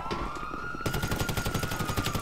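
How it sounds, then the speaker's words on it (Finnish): In Grand Theft Auto V, a police car siren wails steadily while rapid automatic gunfire breaks out partway through, a dense fast rattle of shots over the continuing siren tone. "Mä voin ampua takana tulevan poliisiauton."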